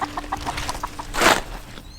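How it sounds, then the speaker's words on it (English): Chickens cluck in a short run of soft, evenly spaced calls, then one louder burst of sound stands out near the end, heard close by in a high tunnel garden setting. "Hello, chickens."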